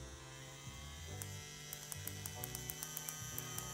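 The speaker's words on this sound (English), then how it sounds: "Seems like a strong motor on this machine." A CNC P6 machine's customized X1 motor runs with a steady electric hum and whine, its pitch stepping between levels, with faint regular ticking pulses in the background.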